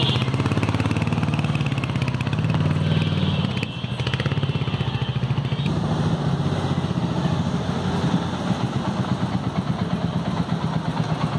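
Royal Enfield Hunter 350 motorcycles on a test ride, a continuous mid-pitched engine rumble that swells and settles as the bikes pull away, steady and fairly close with no talk.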